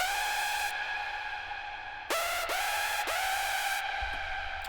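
Hardstyle synth lead character layer built in Sylenth1: a bright, buzzy sustained tone played alone in a few notes, with sharp downward pitch swoops at each new note and brief pauses between phrases.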